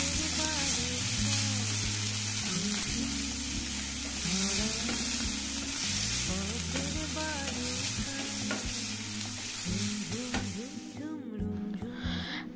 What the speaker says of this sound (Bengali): পেঁয়াজগুলোকে দেখুন একদম লাল লাল করে ভেজে নিয়েছি